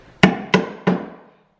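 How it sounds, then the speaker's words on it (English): Three sharp hammer blows drive a plate rack back into a kitchen cabinet, evenly spaced about a third of a second apart, each a loud close knock with a short ringing decay. "you gotta hammer it back in"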